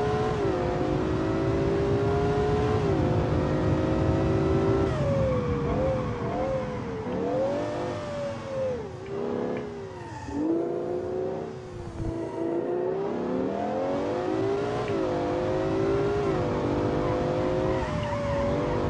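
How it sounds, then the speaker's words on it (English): In BeamNG.drive, an LS12-engined supercar built in Automation revs and roars through rising and falling engine pitches, with tire squeal and skidding mixed into the loud, continuous driving noise. "The engine is actually working pretty well."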